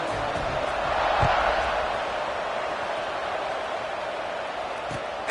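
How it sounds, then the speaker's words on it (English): Stadium crowd in the College Football 25 video game buzzing during a kickoff after a score, a steady, dense roar of many voices held at an even level throughout. "this crowd is buzzing after that last score"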